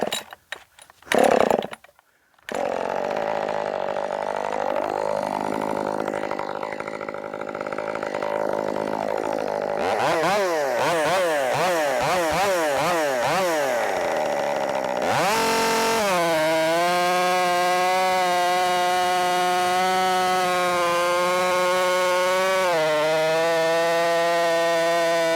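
A ported Redmax GZ5000 chainsaw is pulled over a few times, fires up, then idles and revs with a wavering, rising-and-falling engine whine before settling into a steady high-pitched run.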